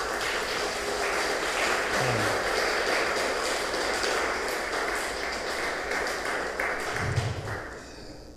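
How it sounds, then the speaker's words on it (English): A dense wash of applause from an audience at an artist talk, holding steady and fairly even for several seconds before thinning slightly near the end. "So if we can all just give a round of applause."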